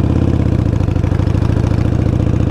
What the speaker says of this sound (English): pull in on the clutch, and pull up into second gear. And then slowly roll back on throttle.